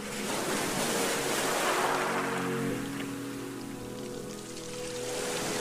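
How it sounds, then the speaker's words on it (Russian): Soft ocean waves wash in a steady broadband hiss, rising and falling gently with no voices, like surf heard from close on a calm shore. "Слышен мягкий, приятный шелест волны."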